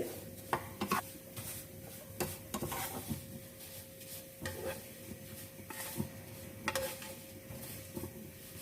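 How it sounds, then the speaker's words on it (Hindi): Vermicelli is fried in desi ghee over low heat for sheer khurma, with a low sizzle beneath repeated scraping and stirring strokes from a utensil in the pan. "देसी घी में फ्राई कर लेते हैं हल्की आंच पे"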